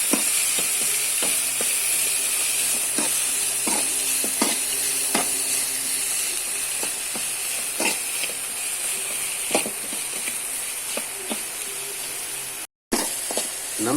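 Green chillies and tomatoes fry in a pan for tomato rasam, giving a continuous loud sizzle with scattered sharp crackles and stirring taps throughout, cut briefly near the end.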